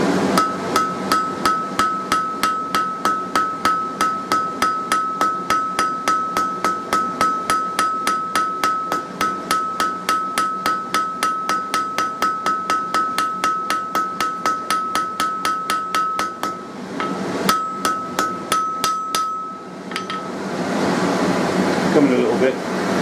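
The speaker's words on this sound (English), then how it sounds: "I'm going to get in with a small ball pane now." Steady, rapid ball peen hammer blows forge a metal door pull finial, ringing strikes repeating for about seventeen seconds, then a few scattered hits and a roar of forge or fan noise at the end.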